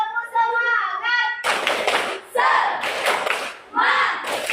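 A classroom of children claps a rhythmic cheer, bursts of quick claps in a pattern, loud and close, alternating with a chanted voice leading the group.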